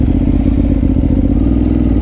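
Motorcycle ridden on the road, a steady low engine drone with rumbling mechanical clatter filling the whole stretch, close and fairly loud, no talking.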